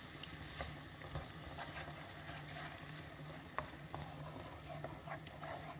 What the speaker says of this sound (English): Better get stirring this.